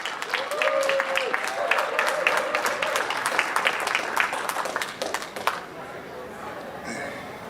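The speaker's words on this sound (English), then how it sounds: "give Ben a round of applause" A conference audience at Flatoberfest 2022 applauds a presentation with dense, steady clapping for several seconds, then tapers off into a few scattered claps and quiet room noise.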